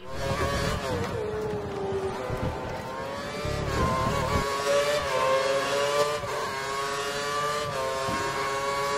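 A Formula 1 car engine in the video game F1 2013, at Abu Dhabi, revs continuously at high pitch, rising and falling with gear changes, loud and steady throughout with a rumbling low end.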